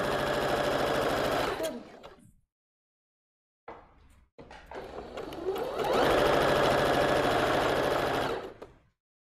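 A sewing machine stitches a ruffled pareo in close, fast whirring bursts: one long run, a pause, a brief restart, then a second long run that winds down near the end.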